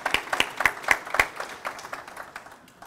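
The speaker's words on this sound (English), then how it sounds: "big round of applause for Jane and Bert there" A small studio audience gives a short burst of applause, with distinct individual claps standing out near the start before thinning into scattered clapping over a few seconds.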